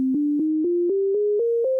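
Eight clean, evenly spaced notes climb step by step in a natural minor scale, played alone with a soft, pure tone.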